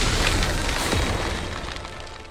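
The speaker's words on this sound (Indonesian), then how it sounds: "Suara ledakan apa itu?" An explosion in a fantasy movie scene gives a broad, rumbling blast that fills the whole clip and slowly fades, with no voices.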